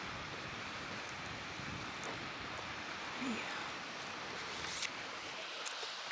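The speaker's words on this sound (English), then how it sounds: "the wind has caused the river to have like a nice little sound to it" Wind sweeps over a river, producing a steady broadband rush and rippling wash of water at a moderate, even level with no voices.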